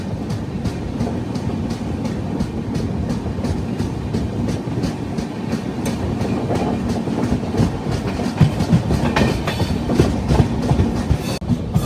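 The Rayalaseema Superfast Express passenger train rumbles along the rails at speed near Renigunta, India, a loud continuous roar with a steady clickety-clack rhythm of wheels over track joints.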